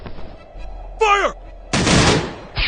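In an animated short pitting Superman against the Hulk, loud gunfire bursts in, with a descending whistling sweep between blasts and a dense, heavy volley near the end.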